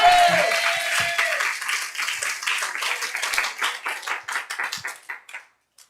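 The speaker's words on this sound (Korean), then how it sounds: "우리 주님께 영광의 박수 냅시다." A church congregation at a Sunday worship service claps together after a brief voice at the start, settling into a steady, rhythmic beat that gradually fades and stops.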